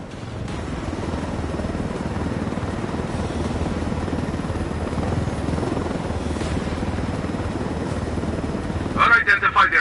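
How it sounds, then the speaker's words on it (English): A helicopter flying in the video game Ghost Recon Wildlands, its rotor drone steady and close throughout, ending in a burst of rapid rhythmic chopping at the very end. "I told Griffin I could figure out how to fly this thing. Qualify for planes. But not choppers"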